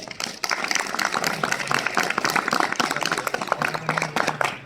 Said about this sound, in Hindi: अजहर के लिए तालियां बजाओ